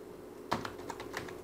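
A few quick keystrokes clatter on a computer keyboard, a short irregular burst of close clicks over a faint steady hum.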